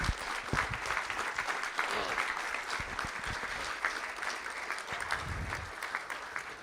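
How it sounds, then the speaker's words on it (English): A school board meeting audience applauds student advisory council members being commended, producing a dense, sustained round of clapping with a few voices mixed in, holding steady before tapering slightly. "Let's give them a round of applause."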